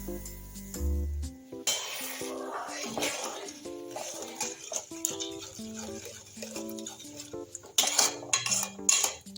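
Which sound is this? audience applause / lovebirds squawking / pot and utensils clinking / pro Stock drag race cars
pot and utensils clinking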